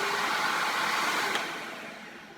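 Electrolux Well Q7 Animal cordless vacuum cleaner running with a steady high-pitched whine and airflow hiss, low on charge, holding level then tapering slightly toward the end.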